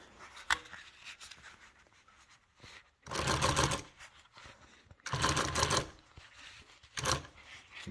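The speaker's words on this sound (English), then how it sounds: "Reach over here and do a little back stitch to lock it" A sewing machine stitches golf cart seat cover material in loud, rapid bursts of a couple of seconds each, separated by quieter pauses with handling noises as the fabric is repositioned, with no talk.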